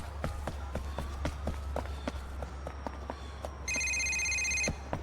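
A phone rings in the video game GTA IV inside an apartment, a steady electronic ring entering late over a steady low hum and repeated footstep-like thuds.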